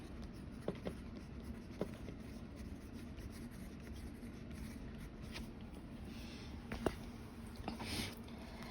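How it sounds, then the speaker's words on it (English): A pen writes little reminders in a paper planner, its tip scratching faintly and steadily across the page with a few light taps, close up and quiet, with no talking. "just writing little reminders"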